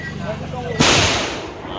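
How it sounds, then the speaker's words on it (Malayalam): A single loud firecracker bursts with a sharp bang and a fading rumble during Vishu celebrations in Kerala, following faint background chatter. "എടാ ബെറ്റേ എല്ലാവരും പടക്കം പൊട്ടിക്കല"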